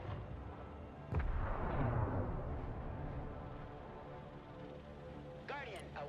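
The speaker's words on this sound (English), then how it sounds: "And missiles going everywhere." Missiles and artillery fire in the military strategy game Broken Arrow, with a heavy boom followed by a long rumbling roar and a sharp whooshing streak near the end, all fairly faint and distant.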